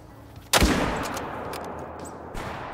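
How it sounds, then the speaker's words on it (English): A loud rifle shot booms at deer and a black bear during a hunting drive in the video game Call of the Wild, followed by a rolling echo and a second, quieter shot near the end. "Shots fired. Shots fired."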